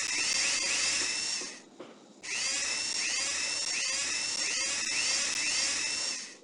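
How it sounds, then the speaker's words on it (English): A drill bores a hole in wood in the 1998 PC game Tonka Workshop, a steady high whirring tool whine that briefly cuts out, then resumes and runs continuously, loud and close with no talk. "Use your drill to make a hole in the center bench for the mast"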